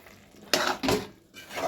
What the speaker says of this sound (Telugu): ఇంకా మొత్తం ఒకసారి బాగా కలుపుదాం.